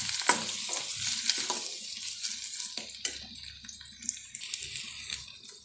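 Red chilli powder, turmeric, coriander powder and salt are stirred and fried in a pan, with soft sizzling and scraping strokes that come at an irregular pace, close by.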